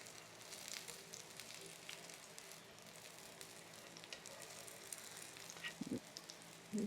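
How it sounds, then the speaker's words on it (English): Potato pancake batter sizzling in hot frying oil, a steady close crackle and hiss throughout with a few sharper pops near the end. "I'm going to put it in the oil here a little bit."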